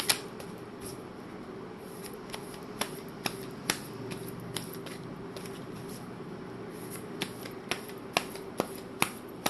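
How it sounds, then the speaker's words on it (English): Tarot cards being shuffled and one drawn, a soft steady riffle with a string of sharp, separate card snaps and flicks spread through the stretch, close and fairly quiet, with no talking. "I'm going to pull one more card."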